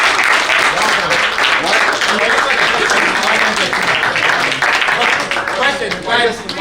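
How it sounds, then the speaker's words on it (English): A workshop audience of livestock farmers breaks into loud, sustained applause, dense and steady from start to finish, with a few crowd voices mixed into the clapping. "Big clap"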